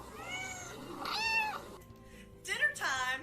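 An excited house cat meows repeatedly and close by indoors, a string of long, wavering cries broken by brief pauses, loud against a quiet room.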